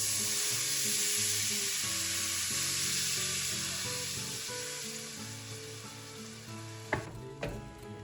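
Garlic pieces browning in a pot give a steady, close frying sizzle throughout, with a few stirring knocks near the end.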